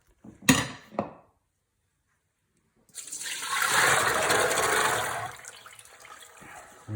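Soaking water draining off chickpeas that soaked a day, two sharp knocks first, then a short silence and a steady pouring rush that fades away.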